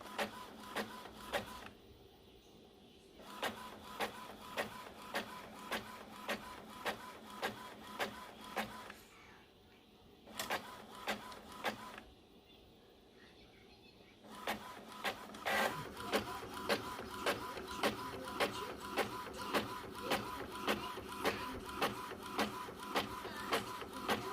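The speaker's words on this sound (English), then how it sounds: "I went ahead and printed out some of my stickers that I will be selling on my Etsy shop" An Epson ET-2760 inkjet printer running a sticker print job, with repeated rhythmic mechanical passes of the print head and paper feed. Brief pauses fall between bursts, and the machine is close and steady throughout.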